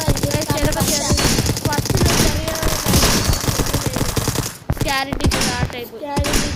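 Rapid automatic gunfire in the video game Dude Theft Wars rattles in dense bursts, loud and mixed with game music and a person talking.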